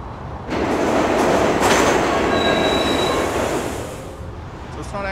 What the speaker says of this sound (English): And as you can see, this is the high-speed train.